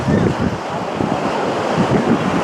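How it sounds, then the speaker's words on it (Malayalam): Surf washing onto a beach at Pondicherry on a quiet morning, a continuous loud roar of breaking waves with steady wind noise buffeting the microphone and no talk. "ഇത് അടിപൊളി ബീച്ചാട്ടോ."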